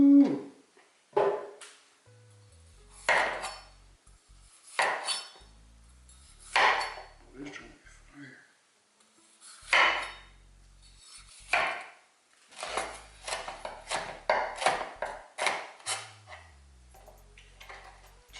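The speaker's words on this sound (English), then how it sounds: "So we're just gonna chop these up, get these prepped" A knife chops bell peppers into long strips on a board, giving irregular sharp knocks, sparse at first and then a faster run of cuts, with a voice talking in between.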